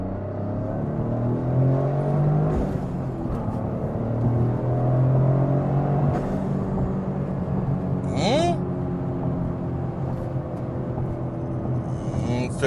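Toyota GR Corolla fitted with an MST Performance downpipe on a quick drive, its engine droning steadily with rising and falling revs under near-constant talking from the driver.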